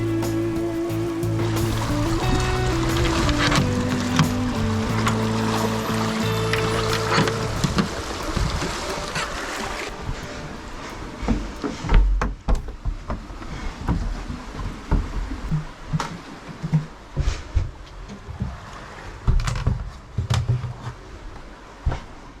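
A sailboat moves under sail alone with no engine running, giving a steady rush of water and wind along the hull. Low tonal rumbling fades early, then irregular splashes and slaps of water follow.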